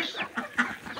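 Backyard chickens, kept alongside ducks, cluck while pecking at morning wheat and paddy grain, giving a few short, close, moderately loud calls in quick succession.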